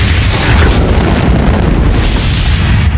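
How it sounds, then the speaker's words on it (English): A bomb goes off with a huge, sustained boom and rumbling roar that stays loud and heavy throughout, with no voices heard over the blast. "drop the bomb on Trey's house"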